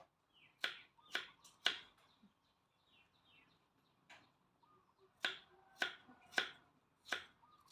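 Sharp, bright knocks of a knife hitting a cutting board, three quick chops, a pause, then a lone chop and four more in steady rhythm, close by.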